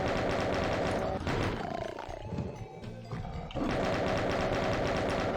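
Chain gun fire in Doom II, a continuous rapid rattle of bullets that breaks off briefly into a mix of monster noise and scuffling before the loud steady firing resumes.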